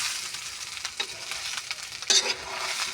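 Fried corn rice stirred in a pan at home, near-volcano highland kitchen: steady close sizzling under scraping spoon strokes, with a louder scrape burst partway through, no talk.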